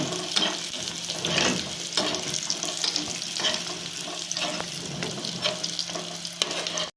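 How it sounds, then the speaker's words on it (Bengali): Lentil dumplings (bori) fry in hot oil in a pan for a fish curry, a steady loud sizzle with crackling pops and occasional stirring scrapes, with no talking. "কটা বড়ি দিয়ে ভেজে তুলে নেবো"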